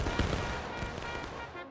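A musket volley from an infantry line in War of Rights: a rolling burst of many overlapping gunshots crackling together, then echoing and fading, distant and fairly faint.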